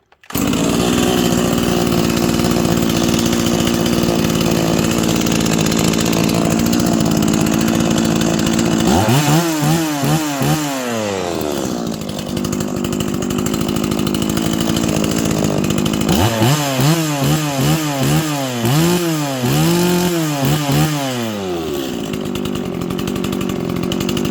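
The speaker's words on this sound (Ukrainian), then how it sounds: "Чудова рівна робота, так як і має працювати якісна бензопила." A Kraissmann KS 180 petrol chainsaw runs loud and steady throughout, idling with a constant drone, then revved hard in two bursts of rising and falling engine whine.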